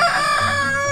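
An Ayam Cemani rooster crows once, a loud, close, drawn-out call with no other sound around it.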